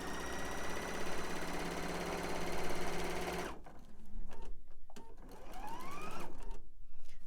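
A sewing machine stitches a paper-pieced quilt block in a fast, even mechanical whir that runs loudly, then stops abruptly partway through and is followed by softer handling clicks and rustles.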